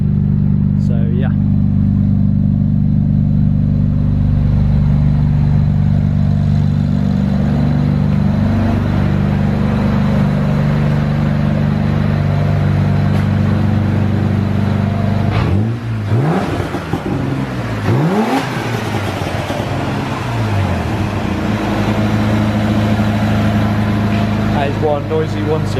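Loud car engine droning steadily on a dyno, with a couple of revs swooping up and back down partway through, then settling into a constant hum.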